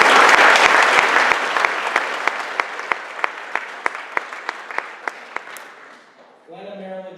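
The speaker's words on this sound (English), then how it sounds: "So a big round of applause for that." Audience applause at a guide dog graduation ceremony, a dense burst of clapping that tapers off over several seconds while a few individual claps stand out, ending as a voice begins speaking.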